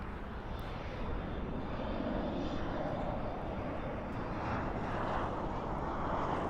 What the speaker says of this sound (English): There's that American Airlines 737 that came from Omaha